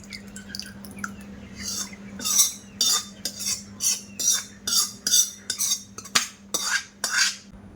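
Sweet yogurt mixture for mishti doi going into a glass bowl, heard as a close run of soft, rhythmic clinks and wet scrapes repeating steadily over a low background hum, with no talking.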